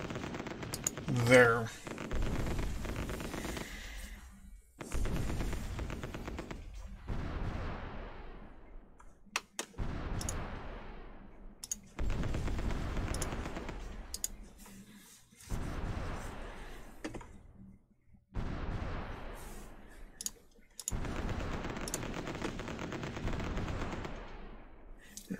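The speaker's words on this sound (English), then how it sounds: "let's bring the battleship in. And you're going to be ordered to bombard" Battleship bombardment plays out in the strategy war game Supreme Ruler Ultimate as repeated bursts of booming game gunfire and rumbling explosions, coming in several separate waves with short gaps, with a word spoken once.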